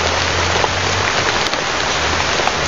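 Heavy rain pours steadily onto surfaces along a slippery path, a dense, continuous hiss with scattered drops and a low rumble beneath, with no voices.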